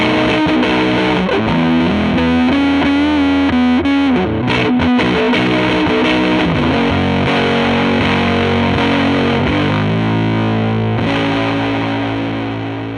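A Finnish Cassette Preamp guitar pedal with portastudio-style tape coloring shapes a loud, saturated electric guitar riff of sustained chords and moving notes, playing continuously and alone before fading slightly at the end.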